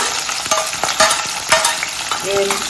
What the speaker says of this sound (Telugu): గోల్డెన్ బ్రౌన్ కలర్ వచ్చేంత వరకు మనం ఈ ఉల్లిగడ్డని వేయించుకోవాలి.